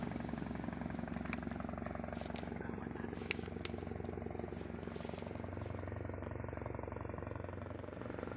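A Bell 412 helicopter in flight gives a steady, continuous rotor thrum and engine drone at moderate distance, punctuated by a few sharp cracks that may be gunfire.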